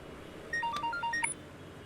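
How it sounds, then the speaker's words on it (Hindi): A phone rings with a short burst of bright electronic tones in a rising and falling pattern, lasting about a second over a quiet room background, with no talk. "ओ यार ये किसका फोन आ गया?"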